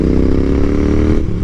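Royal Enfield Interceptor 650 motorcycle engine revving steadily and loud, a rough continuous mechanical drone with a brief dip near the end, heard alone.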